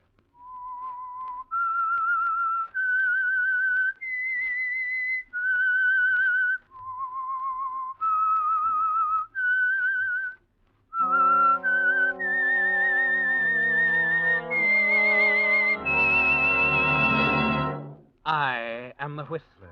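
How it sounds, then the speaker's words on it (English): A lone whistler carries a slow, eerie melody note by note, sustained and clear, then an orchestral swell joins in and rises under the whistled line, serving as the signal theme for The Whistler radio program. "That whistle is your signal for the Signal Oil Program"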